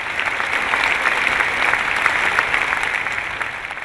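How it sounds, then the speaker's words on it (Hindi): Applause from a seminar audience in a hall: even, sustained clapping from many hands, moderately loud and unbroken, with no speech over it. "देखिए इनके लिए तालियां क्यों बज रही है"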